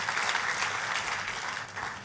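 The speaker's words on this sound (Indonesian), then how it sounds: "Tepuk tangannya yang meriah buat Tuhan." A church congregation breaks into brief, fairly quiet applause, an even patter of many hands clapping without pause.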